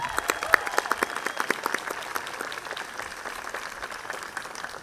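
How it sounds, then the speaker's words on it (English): Audience applause after a speaker named Mia at an evening community event, a steady wash of clapping with sharper individual claps standing out near the start, holding at an even level throughout. "give Mia another round of applause"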